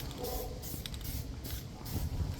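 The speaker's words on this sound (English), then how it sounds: "So spray painting we're doing, just to make it look a little bit better." Spray paint can hissing in short repeated bursts while a volleyball net frame for a pool is painted, close and fairly steady with faint background noise.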